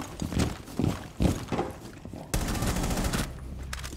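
Gunfire in Rainbow Six Siege, a few separate heavy shots followed by a sustained rapid automatic burst, loud and close, ending in a couple of final shots.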